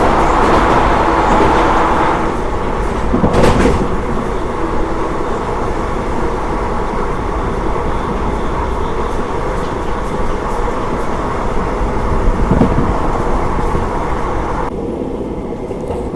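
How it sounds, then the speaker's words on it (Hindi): Khandesh Express rumbling steadily, heard from inside an AC first-class carriage, with a continuous broadband roar and faint rhythmic clatter, a brief louder burst early on, and the noise thinning slightly near the end. "बहुत ज़्यादा बिफोर चल रही है और इसीलिए थोड़ा स्लो डाउन भी हो गई है"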